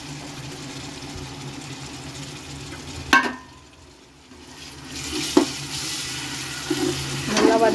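A handful of fresh coriander and mint sautéed for chicken biryani hisses steadily in the pan, with a few scraping stirs, a short lull in the sizzle and then a renewed, louder frying.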